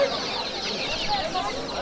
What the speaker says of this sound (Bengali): এটা 5000 দাম আছে এই ফাইটার মুরগিটা